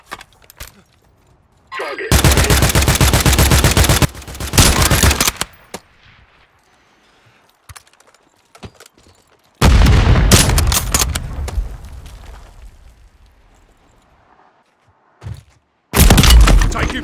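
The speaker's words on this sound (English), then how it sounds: "Taking fire over here!" Gunfire in a Call of Duty battle royale match comes as loud, close bursts of rapid automatic fire in three separate volleys with quiet gaps between them, while game voice lines and players talk.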